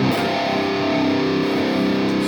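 A sustained, heavily distorted electric guitar chord through a Hotone Ampero II with solid-state distortion and the gain turned up rings out loud and steady, thick and buzzing with no pauses.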